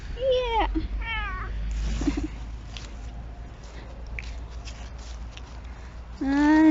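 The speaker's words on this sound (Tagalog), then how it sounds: "Yan yung pusa." A cat on a farm in Cornol, Jura, Switzerland meows several times, with drawn-out meows at the start and again at the end, and soft shuffling in between.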